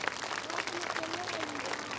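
Audience applause at a Hindi religious discourse on spiritual teaching, steady dense clapping filling the whole stretch with crowd noise beneath.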